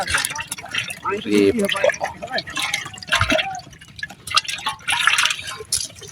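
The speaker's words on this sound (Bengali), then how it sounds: "পানি দিয়ে চকচকা করে নেন মাছগুলো।" Freshly caught pond fish are rinsed with water, bringing splashing, dripping and sloshing sounds close by, with people talking over much of the washing.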